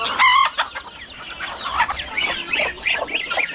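Young geese honk and call in a burst of loud, nasal cries near the start, followed by quieter, overlapping chattering calls close by in a rural yard.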